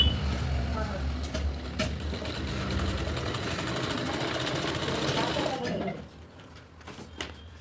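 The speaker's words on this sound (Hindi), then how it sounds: "एक बार और सिलाई लगा लेंगे हम" Electric sewing machine stitching a katori-cut blouse shoulder seam, a steady close motor whir running continuously for about six seconds, then stopping and leaving quieter room sound with a voice speaking.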